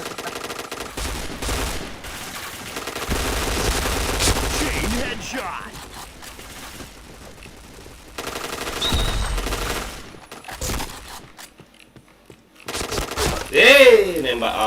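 Rapid bursts of gunfire from the Point Blank shooter game, with repeated volleys of shots running through most of the stretch under excited players' chatter.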